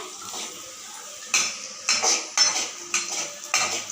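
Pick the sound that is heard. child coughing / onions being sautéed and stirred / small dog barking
onions being sautéed and stirred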